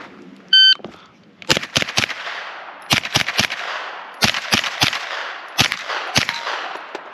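A suppressed PDW fires during a shooting drill, sharp cracks arriving in quick clusters of two to four with short gaps between, preceded by a timer beep and ringing out in an open outdoor space.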